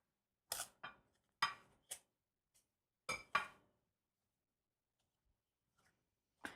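A pastry cutter working butter into flour in a bowl, several sharp separate clinks and scrapes in short groups with quiet pauses between.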